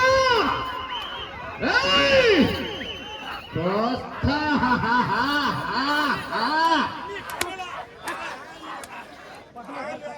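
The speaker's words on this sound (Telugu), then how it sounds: "గట్టిగా విజిల్లు కేకలు ఆహా" A large crowd at a village race in Palnadu whistles and shouts loudly, with rising and falling whistle tones and excited yells and chatter layered densely throughout.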